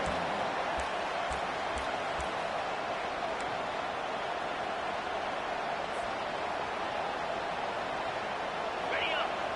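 Steady, dense roar of a big college football stadium crowd near the goal line, a constant wash of cheering with no breaks and a commentator talking over it.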